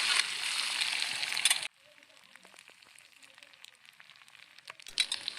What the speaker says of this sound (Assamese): পাস্তাখিনি দি ভালদৰে লৰাই লৈছোঁ।